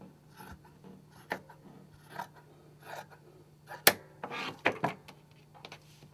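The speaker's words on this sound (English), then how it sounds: "I'm going to remove the bottom seam with my scissors." Scissors snipping straight across the bottom seam of a T-shirt, a series of soft, close cuts and rustles of fabric, with a few sharper crisp snips in the middle, over a low steady hum.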